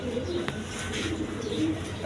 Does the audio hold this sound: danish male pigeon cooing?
yes